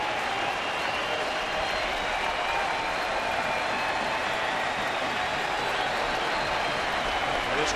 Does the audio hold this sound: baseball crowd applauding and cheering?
yes